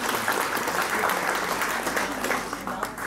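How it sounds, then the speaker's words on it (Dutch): Applause breaks out at an annual general meeting of a local senior citizens' association in Putte, a room full of people clapping steadily for about three seconds before it starts to thin. "dus een applaus voor Agnes."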